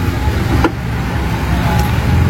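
Jammed road traffic in Bekasi: a loud, steady rumble of idling and creeping cars, buses and trucks close by, with a brief passing whoosh and no voices.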